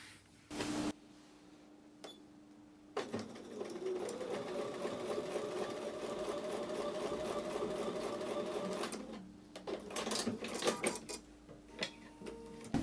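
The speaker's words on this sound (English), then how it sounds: "I'm going to go back over to the sewing machine and sew all these pieces together" A sewing machine stitches fabric pieces together in a fast, even mechanical whir with a rapid needle rhythm, running for several seconds between short pauses and small clicks, close and fairly loud.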